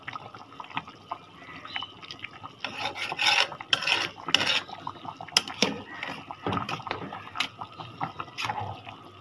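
A spoon scrapes and rubs through chunks of potato and bone in a cooking pot, rough rasping strokes in uneven bursts close by, with a little wet sloshing and brief talk.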